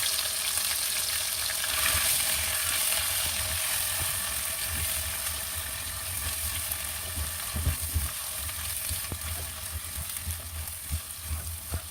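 Marinated chicken hits a hot pan with spices, sizzling and frying loudly while a utensil stirs and scrapes through it, the hiss easing slightly over time.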